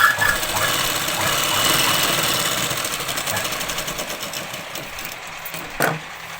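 A sewing machine stitches Punjabi dress pants with a rapid, steady mechanical whir and needle chatter, close and continuous, slowing slightly with a brief knock near the end.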